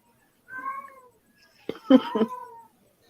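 A house cat meows twice close by, a drawn-out plaintive call followed by a sharper, more strained yowl, with no talking over it.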